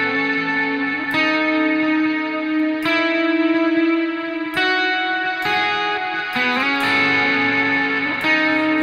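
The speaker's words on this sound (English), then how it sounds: "a ping pong delay that kind of goes left and right." Electric guitar pad patch played through a ping pong delay that bounces left and right, sustained chords swelling into a big, atmospheric wash with reverb and several chord changes, heard alone with no talking.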